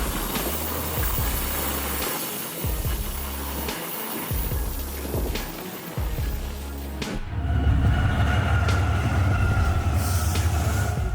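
An express train hauled by steam locomotive 5029 Nunney Castle with Class 57 diesel 57311 at the rear runs through Cockwood Harbour at night, wheels thumping rhythmically over rail joints before a louder, rumbling roar as it passes close.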